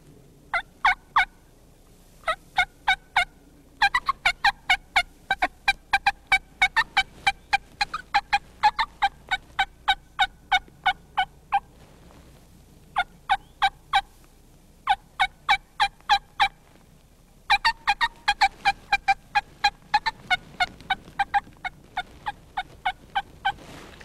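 A hunter imitates a turkey hen's cutting call on a call, producing loud, choppy bursts of sharp clucks in rapid irregular runs separated by short pauses, alone without talk.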